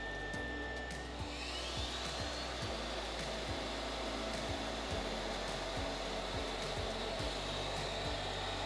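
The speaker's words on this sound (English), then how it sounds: "We toggle the vacuum on and off to confirm the settings." A vacuum is switched on a turbocharger dynamic calibrating and testing bench, giving a loud, steady airy rush that shifts in tone early on, with faint regular ticks running underneath.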